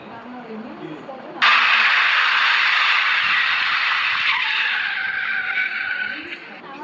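A tour bus brakes to a sudden stop, a loud sustained tyre squeal that bursts in and drags on for about five seconds before fading, over faint background voices.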